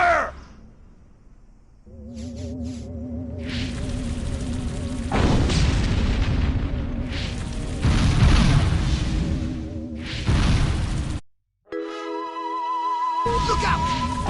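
Battle in the Destroy All Humans video game: booming explosions and bursts of gunfire mixed with droning, tonal game effects, loud and dense, cutting out briefly near the end before resuming.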